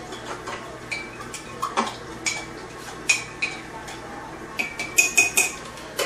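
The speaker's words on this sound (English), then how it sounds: "So I've got the yeast packet in there. Just give it a little stir." A spoon stirring a yeast packet into lukewarm water for a ginger pale ale brew, giving a run of light clinking and ticking taps against the container, sharper and quicker toward the end, close and fairly quiet.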